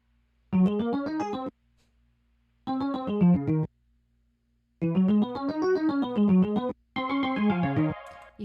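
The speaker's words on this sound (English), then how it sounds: "my favorite little part of this section is this like really nerdy, like sounding electric keys part" Electric keys part from a Logic Pro X production: a bright, effected synth-keys line played in four separate phrases with short gaps, close and loud, with no voices.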